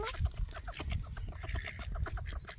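Several ducks being fed oats quack and squawk in a busy, overlapping chorus close by, with a steady low rumble of outdoor background noise underneath.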